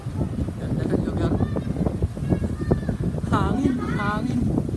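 Steady wind roars and buffets the microphone at a condo staycation spot, with voices and high chirpy sounds over the rush.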